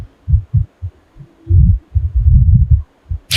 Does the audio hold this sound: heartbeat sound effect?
yes